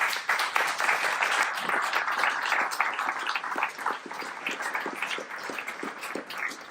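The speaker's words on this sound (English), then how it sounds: "So a big round of applause for you, please" Audience applause at a talk for staff and principal developers, a steady patter of many hands clapping fairly close, continuous throughout without speech.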